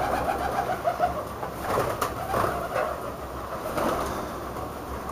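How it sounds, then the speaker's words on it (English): Pigeons cooing inside a hexagonal 1928 pigeonnaire, soft repeated throaty coos in overlapping bursts close by, with a low background rumble and no talking. "See pigeons in here."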